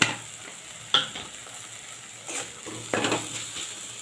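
Ground spices (turmeric, Kashmiri chilli, cumin, dried fenugreek) with tomato in a little oil and water, frying softly in a pan with a few distinct scrapes of a spatula, steady low sizzle throughout.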